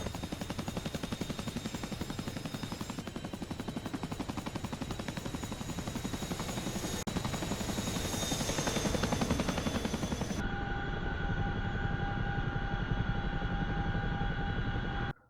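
Chinook tandem-rotor helicopter in the DCS flight simulator game, with loud rapid blade thumping over a steady engine whine that continues throughout and shifts in tone near the end, with no talk.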